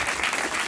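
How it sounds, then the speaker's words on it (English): Audience applause at a film festival premiere Q&A, a dense, steady wash of clapping from a crowd filling the whole short moment. "A round of applause for Patrick."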